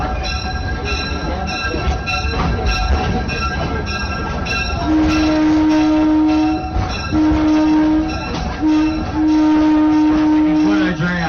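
Small heritage train running on rails at Pine Creek Railroad in Allaire State Park, with steady wheel rumble and clatter throughout, then several long, loud horn blasts separated by short gaps in the second half.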